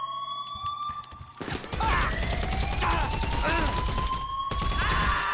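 AP pistol gunfire in GTA 5 Online, a rapid burst of sharp shots breaking out over a wailing police siren, loud and sustained with thuds mixed in.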